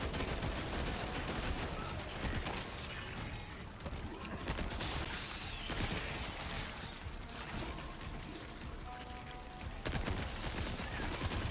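A turret in Resident Evil 4 Remake (Separate Ways) fires at enemies in a dense, continuous stream of gunfire bursts that runs throughout within a busy, noisy game mix.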